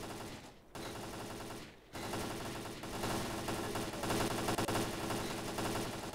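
Gunfire in the video game S.T.A.L.K.E.R.: Clear Sky, rapid automatic bursts broken by short pauses, dense and loud, with no one talking.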